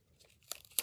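A strip of tape is pulled and torn off while crepe paper is taped down, giving two quick, faint crinkly rips near the end of a quiet moment.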